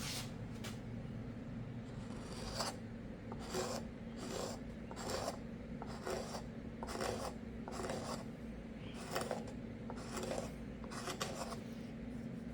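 A freshly sharpened, burred scraper is drawn along a wooden hammer handle in repeated rasping strokes, roughly one per second, each a bright scratchy burst over a steady low workshop hum, close and moderately loud with no talking.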